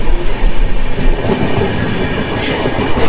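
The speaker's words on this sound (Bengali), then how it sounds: "এ দেখো স্পিডটা দেখো মানে এইট্টি প্লাস স্পিডে চলছে" The Dibrugarh–Kanyakumari Vivek Express rushes along at over eighty, a steady loud rumble and roar of wheels on track filling the whole stretch without pause.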